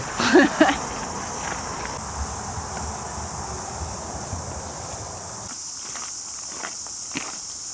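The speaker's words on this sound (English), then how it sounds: "There's definitely some cicadas on this trail." A steady, high-pitched drone of cicadas buzzes continuously in the background while footsteps crunch along a trail nearby in Auckland, New Zealand.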